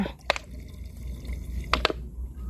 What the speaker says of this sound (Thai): น้ำส้มสายชูยี่ห้อใดก็ได้นะคะ เอาใส่ในน้ำ